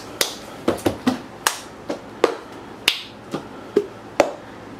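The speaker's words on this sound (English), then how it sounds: "you take the corner of the cup and smack it off the table or your surface" Cup-song rhythm on a table: about a dozen sharp, crisp hits in a brisk pattern, mixing hand claps with a cup corner smacked against the surface, each loud and close with a quick decay.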